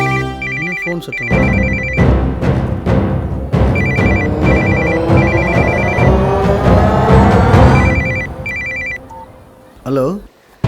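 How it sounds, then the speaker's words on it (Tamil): A phone ringtone in a scene from the Tamil film 7 Naatkal repeats in short electronic bursts over a loud musical score before cutting off, followed by a brief sound near the end. "ஃபோன் சத்தம்."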